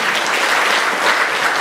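Loud, steady applause from a meeting audience greets an association vice-president who is also a village head, a dense clapping wash filling the moment without voices.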